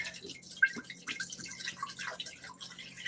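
Water runs into a container being filled for a turkey brine with apple cider vinegar, heard as uneven splashing, dripping and trickling that goes on steadily nearby.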